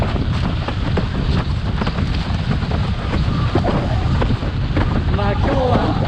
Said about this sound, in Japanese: 前回と違って風がすごい吹いてるんで